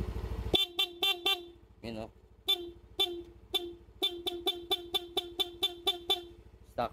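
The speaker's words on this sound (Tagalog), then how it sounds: "Stock horn pa lang yan." Stock horn on a Yamaha NMAX motorcycle, honked in a rapid series of short, loud beeps with a few brief gaps, close by, with a voice speaking briefly between them.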